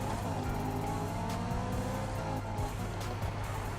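BMW M3 engine in the Need for Speed 2015 racing game, a loud, steady high-revving drone with harmonic whine, punctuated by brief shifts and tire noise, continuous throughout.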